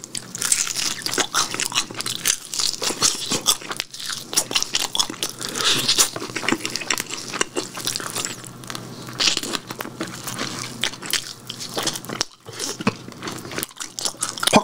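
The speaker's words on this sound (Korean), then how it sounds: "날개 먹어볼게요" Loud, close crunching and chewing of crispy Kyochon Sinhwa fried chicken wings, with continuous crackly bites and mastication throughout and no talking.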